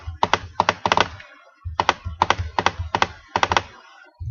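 A computer mouse clicks repeatedly while an image-editing selection is being undone, the sharp near clicks falling in quick paired and clustered bursts with short pauses between groups.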